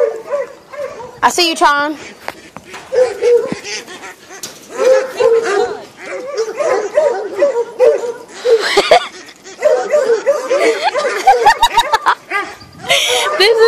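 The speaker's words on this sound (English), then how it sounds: "All the dogs are barking because they're out." Several dogs bark and yip excitedly outdoors while chasing ducks, with repeated close barks scattered through the scene under steady, overlapping human talk and laughter.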